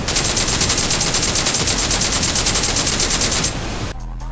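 Rapid automatic gunfire from a BGMI mobile battle royale match, a dense, loud, unbroken burst lasting several seconds before it cuts off abruptly into quieter game noise.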